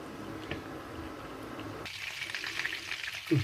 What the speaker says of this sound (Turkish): bir yemek kaşığı tereyağımızı ocağımıza aldık. Eritiyoruz.